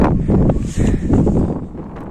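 Strong wind gusts roar across the microphone at post 4 on a foggy mountain trail of Mount Lawu, a loud, buffeting rumble that surges and dips without pause.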